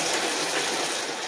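Water gushes steadily from a newly installed bathtub spigot, a loud continuous close-up rush that cuts off abruptly at the end.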